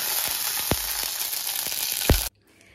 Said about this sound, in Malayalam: അമ്മ ഇതാ കടുക് ഇതാ വെക്കുകയാണ്